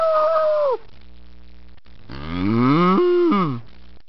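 A cow moos twice, a short low call followed by a longer drawn-out moo, loud and close with no talking.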